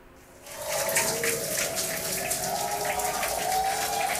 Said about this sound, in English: And what an incredible view of splash.